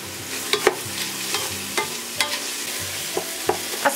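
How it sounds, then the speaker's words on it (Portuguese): Onion frying in a pan with garlic, red chili and bay leaves for a creamy cow-foot and cassava broth, a steady close sizzle broken by repeated sharp scrapes and clacks of stirring. "A cebola já fritou um pouquinho"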